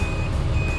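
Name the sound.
Suzuki Every Wagon reverse warning beep when shifting into R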